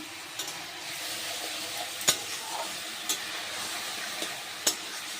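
Spiced paneer cubes being stir-fried in a pan for veg biryani give a steady close sizzle, broken by a few sharp scrapes and clinks of a spoon against the pan.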